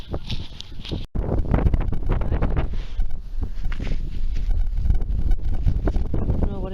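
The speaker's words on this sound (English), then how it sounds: "It's really windy, so I'm trying to keep you out the wind" Strong wind buffets the microphone in an open field during metal detecting, a loud continuous rumbling roar with gusty swells and brief rustling, one sharp dropout near the start.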